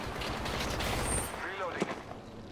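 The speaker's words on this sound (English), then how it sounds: "I am taking fire." Gunfire in the Apex Legends battle royale game, a short burst of muffled shots with clatter under a game voice line, then a sharp loud crack at the very end.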